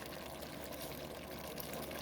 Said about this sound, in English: I'm just going to pour that in here